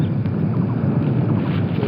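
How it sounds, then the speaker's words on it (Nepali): Wind blowing across an exposed hilltop, heard as a steady, loud buffeting rumble on the microphone that holds without a break for the whole stretch. "हावा चल्दै रहेछ हावा।"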